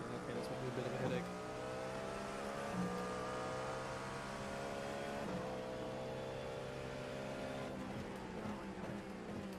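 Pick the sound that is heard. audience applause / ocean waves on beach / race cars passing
race cars passing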